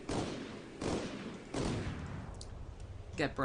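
A warship in a naval video game fires its guns while trading broadsides with an Akizuki, giving three deep booming blasts spaced under a second apart, each fading into a rumble, with someone talking near the end.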